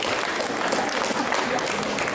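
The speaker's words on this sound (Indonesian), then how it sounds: "Tepuk tangan untuk ibu-ibu dulu" A crowd at a spiritual talk claps for the mothers in a brief, dense burst of applause that stays loud and steady throughout.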